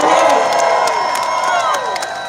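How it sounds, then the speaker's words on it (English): Many voices at a New York City animal rights march rise together in a loud, continuous burst of cheering and shouting, with overlapping whoops close by. "All my animal lovers, make some noise."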